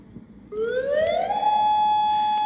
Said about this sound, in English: That more than likely is of the siren going off.